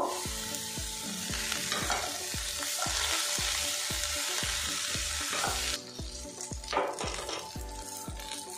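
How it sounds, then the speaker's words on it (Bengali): Snake gourd stir-fried with salt in a pan: a bright, steady sizzle under a quick, regular series of spatula knocks and scrapes against the pan. The frying hiss softens slightly partway through. "চিচিঙ্গাটা কিন্তু আমি উল্টে পাল্টে বেশ ভাজা করে নিয়েছি"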